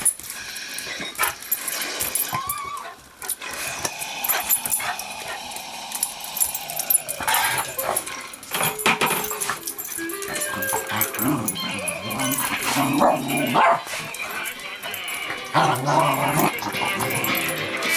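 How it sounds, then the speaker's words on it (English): A dog whimpers, yips and barks among clattering household noise, with people talking over it and music playing nearby. "Oh, you're a stinky dog."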